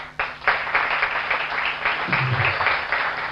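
Studio audience applause for Anila on a weekend TV show, a dense burst of clapping that starts abruptly and holds steady at moderate loudness throughout, with no voices over it.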